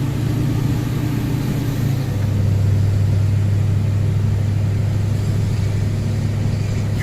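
A cold LBZ Duramax diesel truck fitted with an MBRP turbo-back exhaust idling, a steady loud low drone with a whooshing turbo-like hiss, its pitch dropping slightly about two seconds in.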